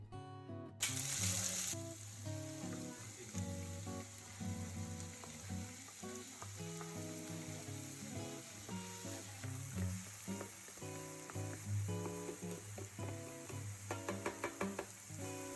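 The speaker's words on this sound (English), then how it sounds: "When the oil is warm, add the finely chopped onions." Finely chopped onions sizzle in warm oil in a pan, a steady close frying hiss that begins with a burst as they go in and continues alone.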